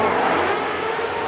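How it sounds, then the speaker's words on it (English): A Mazda MX-5 drift car at a Formula Drift event roars steadily at high revs throughout, a dense, continuous engine and tyre wash heard from a distance without any break. "Tell you what, Kyle Mohan really massaging that MX-5 all the way out there."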